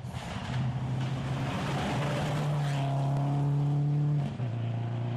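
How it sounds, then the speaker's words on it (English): A Subaru rally car on a Japan Rally 2011 stage roars close by, its engine note climbing through the gears with a brief drop near the end, loud and alone. "Green's going well in the MRU Subaru."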